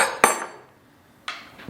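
Metal rocker shafts from a 318 engine knock together as they are handled, giving two sharp clanks about a second apart, each ringing briefly before fading, with quiet in between.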